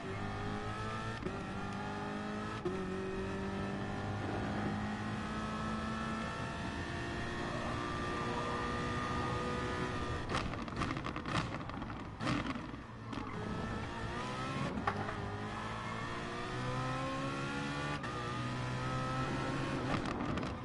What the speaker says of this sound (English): Loving the crackle of the exhaust right now.